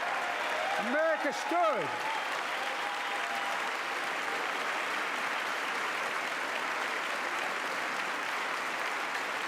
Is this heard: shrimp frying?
no